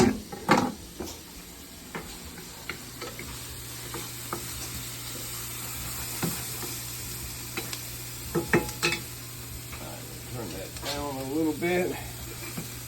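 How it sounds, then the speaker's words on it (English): Garlic dropped into a hot pan for a quick sauce, giving a steady sizzle under stirring clatter and a brief spoken remark. "Now we'll throw the garlic in."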